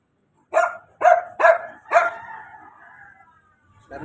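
A dog barks at a distance during a morning walk at sunrise, four sharp barks in quick succession with a trailing whine, then a fifth starting after a pause, loud against a quiet background.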